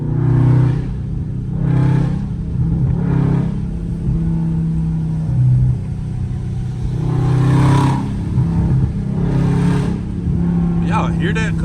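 Dodge Charger Scat Pack engine accelerating through paddle-shifted gears on a rainy day, rising surges that drop at each shift in repeated pulls, with someone talking between them.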